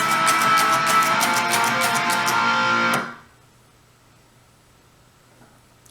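Electric guitar playing the pre-chorus riff, a steady picked figure with slides that rings loud and close for about three seconds, then cuts off abruptly into near silence.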